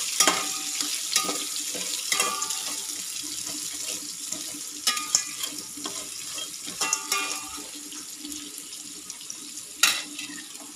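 Onions fry in a pan while cooking biryani, giving a continuous soft sizzle broken by scattered crackles and stirring clatters, with no talk.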